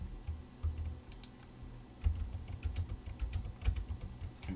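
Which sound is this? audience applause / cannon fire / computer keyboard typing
computer keyboard typing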